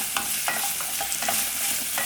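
French beans sautéing and being stirred in a pan with a pinch of sugar and salt, a steady soft sizzle broken by repeated scraping stir strokes, close and alone.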